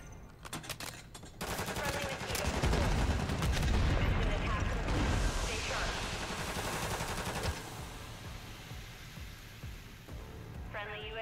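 Video game gunfire rattles in dense bursts of automatic shots and fusillades, loud and close, with a few scattered shots afterward.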